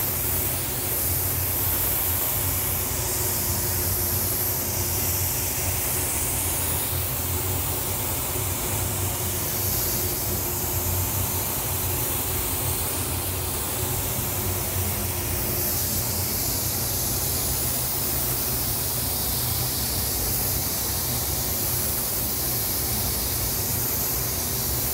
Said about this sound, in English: I was spraying some epoxy primer. That was the PPG LV epoxy primer.